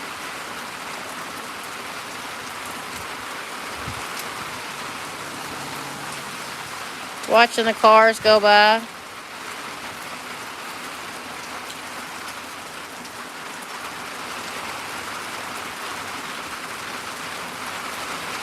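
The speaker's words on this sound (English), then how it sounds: "it's just so nice sitting out here listening to the rain." Steady rain hisses continuously throughout, with a person briefly speaking over it midway.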